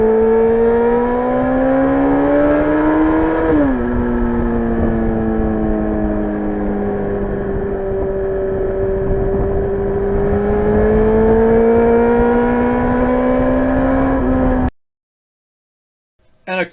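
A peaky Yamaha 1000cc five-valve-per-cylinder engine in a Ferrari-replica FZR drones loudly and steadily, its pitch dropping sharply near a gear change, then sagging and climbing again before cutting off abruptly near the end.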